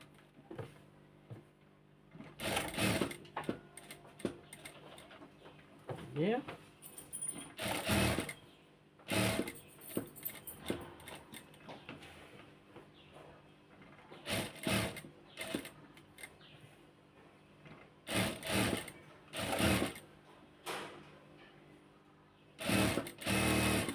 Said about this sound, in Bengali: এখন এই সাইড দিয়ে এভাবে করে সেলাই দিব।